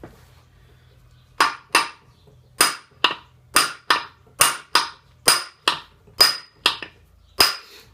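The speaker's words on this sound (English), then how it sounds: "tap the idler shaft" About a dozen sharp, evenly spaced metallic taps ring out close up while the idler shaft is driven out of an NP205 transfer case during disassembly, each hit crisp against a quiet shop background.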